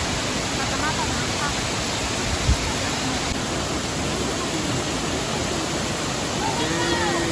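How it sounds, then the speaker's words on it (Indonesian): Lapopu waterfall in West Sumba roars as a steady, loud wash of falling water, unbroken and broadband throughout. "Ini air terjun tertinggi ya."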